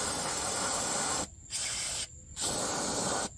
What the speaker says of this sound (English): So what I'm going to do is I'm going to spray some brake clean